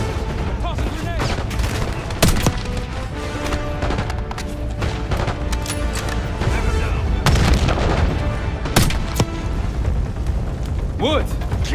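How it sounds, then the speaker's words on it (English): Grenade blast and gunfire in a Call of Duty Black Ops 6 cutscene: dense, loud battle noise with sharp bangs and mechanical clatter, under shouted dialogue. "Tossing grenade."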